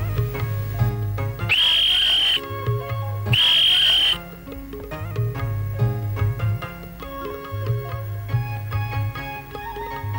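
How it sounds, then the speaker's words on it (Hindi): A man blows a whistle in two sustained, loud shrill blasts near the start, set against a busy backdrop of music and other tones that carries on throughout. "यह है आदमी जो सीटी बजा रहा है।"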